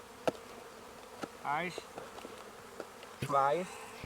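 Honeybees buzz in short droning bursts with a few sharp clicks in between, close and fairly quiet, as they land in front of a hive entrance.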